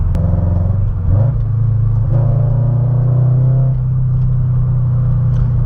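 A Subaru BRZ engine with unequal-length headers, stage 2 tune and E85 idles with a deep, steady rumble and a slightly uneven burble, briefly revving once before settling back to a low drone.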